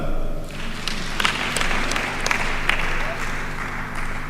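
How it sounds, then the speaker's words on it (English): Audience applause at the 39th graduation ceremony of the University of Eastern Africa, Baraton, swells after a brief lull into steady, sustained clapping from a large crowd that continues to the end. "You can clap."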